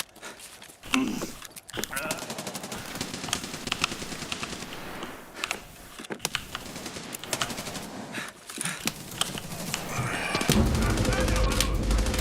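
Fast-firing guns in an Arena shooter game rattle off rapid bursts of closely spaced shots, continuous and fairly loud, with a voice talking over much of the fire.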